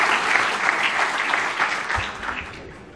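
Audience applause, a dense, steady patter of many hands clapping at close range, thinning slightly toward the end.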